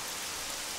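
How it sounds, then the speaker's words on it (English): Rain falls steadily in the video game Jagged Alliance 2, a brief, even hiss of rainfall, faint and continuous without any talk. "Oh, it's raining, goodness."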